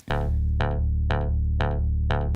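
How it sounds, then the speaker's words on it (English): A synth bass with a sharp, clavinet-like plucky attack, five evenly spaced notes repeating at a steady pace, played alone. "another kind of a bass sound that sounds like it's got a little bit of a clavinet transient attack to it"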